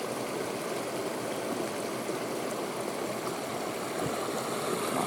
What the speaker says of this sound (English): Oh, another waterfall up there.